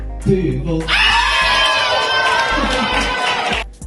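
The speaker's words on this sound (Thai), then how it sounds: "ถึงกับกรี๊ดสนั่นลั่นฮอลกันไปเลย" Trainees in a hall burst into loud, high-pitched screaming and cheering, a packed crowd of shrieks and whoops that starts after a brief murmur of voices, holds at full volume for several seconds, then fades.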